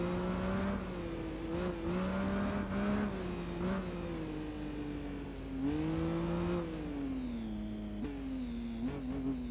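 A BMW or Triumph motorcycle engine racing in the game Tourist Trophy, a steady high whine that rises and dips with throttle and gear changes, continuous and close with no talk.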